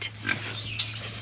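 Brief grunting and snorting from pigs close by, a couple of short calls over a steady low electrical hum.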